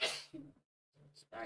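A sneeze bursts out at the start, loud and close, followed by a person speaking briefly and then more talk.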